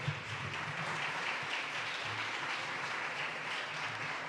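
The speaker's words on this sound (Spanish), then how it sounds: "Demos un aplauso al Señor por la vida de ellos." A congregation claps in church, a soft, even patter of applause from many hands with a low hum beneath, fairly faint and steady throughout.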